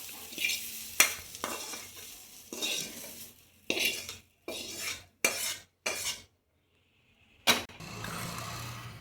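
Spinach is stirred into fried onions in a pan for palak keerai kadaiyal, with a series of sharp utensil scrapes and clatters against the pan over a soft sizzle, broken by short silent gaps.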